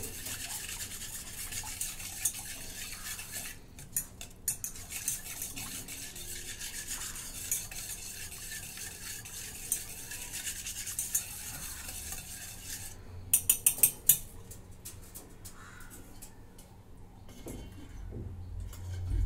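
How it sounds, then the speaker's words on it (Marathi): Chocolate cake batter with powdered sugar is stirred and scraped in a bowl to break up lumps, a soft continuous rubbing with a few sharper taps, close and fairly quiet. "आता हे मी मिसळून घेते. गुठळ्या मोडून घेते."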